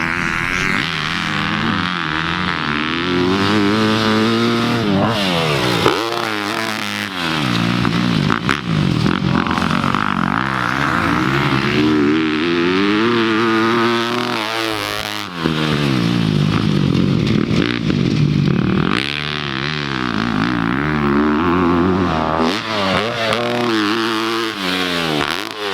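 A 13-year-old rides a 250 dirt bike around a motocross track, the engine loud and close throughout, revving up and down through gear changes with brief dips as the throttle closes, no voices.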